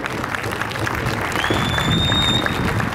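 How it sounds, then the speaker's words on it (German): A crowd applauds the roughly 140 kids of a U10 youth ice hockey tournament with sustained, dense clapping in an arena, growing slightly louder partway through, with a thin whistle-like tone above it. "einen Applaus an die rund 140 Kids"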